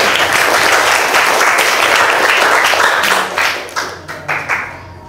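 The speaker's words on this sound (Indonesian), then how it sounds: "Tepuk tangan betul." Steady, dense applause from a classroom or training audience, loud and continuous for about three seconds, then thinning into a few scattered, uneven claps as it tapers off.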